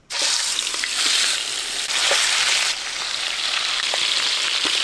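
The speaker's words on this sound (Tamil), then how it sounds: "கொஞ்சம் எண்ணெய் ஆட் பண்ணி சிக்கன் வேக சேர்த்துங்க. என்ன சூடாச்சு சிக்கன் போட்டு நல்லா வேக சேர்த்துக்கலாம்." Chicken legs fry in hot groundnut oil in a kadai, a loud, steady close-up sizzle that starts abruptly and holds with little variation.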